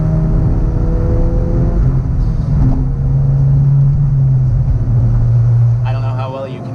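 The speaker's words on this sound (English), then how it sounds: "it might sound nicer in this car with the aftermarket exhaust than the new one" Car engine with an aftermarket exhaust heard from inside the cabin, a steady loud drone that rises in pitch as it revs, fading slightly near the end.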